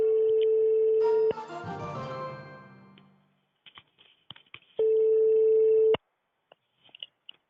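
A steady telephone line tone sounds for about a second, then a brief burst of garbled noise, scattered clicks, a second stretch of the same unbroken tone and a few more faint clicks.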